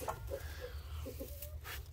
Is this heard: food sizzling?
no